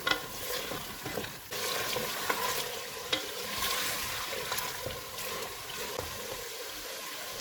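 Steady sizzling of spices, including mace and nutmeg powder, frying in a hot pan for a beef korma, with occasional soft scraping and stirring clicks throughout, no voices.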